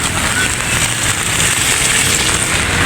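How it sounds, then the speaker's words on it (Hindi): Heavy rain pours onto a street, a dense, steady hiss of water that stays loud and unbroken throughout with no gaps. "बारिश बरस रही है"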